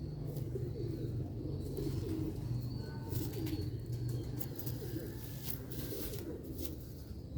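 A Sialkoti pigeon coos in low, soft, repeated warbles over a steady background hum, with a few faint chirps higher up.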